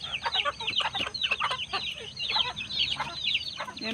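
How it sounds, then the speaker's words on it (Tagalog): A hen with chicks clucking repeatedly in short, close bursts inside a small backyard coop, with soft chick-like peeps mixed in, no talking. "Ito naman yung inahin may sisiw."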